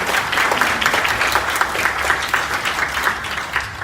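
An audience at a partnership ceremony gives big applause to welcome a co-representative, dense continuous clapping from a crowd, moderately loud throughout.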